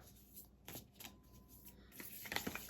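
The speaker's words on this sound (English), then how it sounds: "Not the easiest deck to shuffle" A deck of cards being shuffled up close, with soft riffling and rubbing bursts that grow busier toward the end, no talking.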